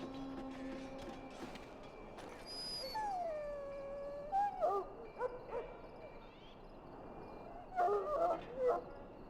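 A wounded dog in the video game Dragon Age: Origins gives a rising, drawn-out whine and howl, then short yelps and barks, soft and a little distant over a low steady hum.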